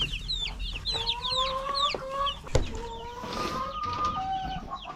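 Young, newly arrived chicks cheep in quick, high, overlapping chirps, with lower sustained clucking calls from a chicken nearby and a sharp knock midway.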